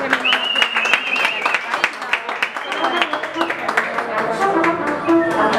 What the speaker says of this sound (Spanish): el aplauso para el mariachi